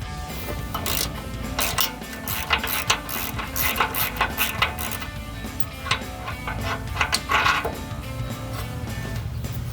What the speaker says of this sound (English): the nut is captured in the frame, so all you will need to do is loosen the bolt from the outside.